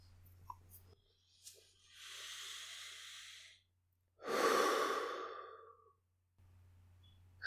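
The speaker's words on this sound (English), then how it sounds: "continuing our slow, calm breathing" Slow, calm breathing sounds close and soft: a long airy inhale followed by a fuller exhale, with quiet pauses and a low steady hum underneath.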